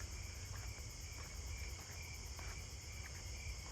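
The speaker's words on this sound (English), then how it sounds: "I hear the sword-beard conehead." A sword-bearing conehead katydid calls in a continuous high buzzing drone with faint regular pulses, steady and fairly distant, in a quiet outdoor night setting.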